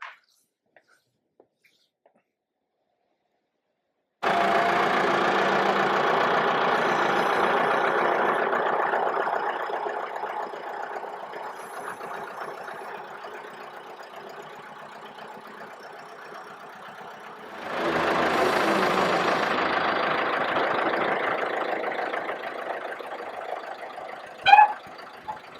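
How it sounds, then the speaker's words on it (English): A tractor engine starts after several seconds of near silence and settles into a steady, close idle. It eases lower, then rises again to a stronger run near the end, with no talking. "we're just gonna fire up that tractor"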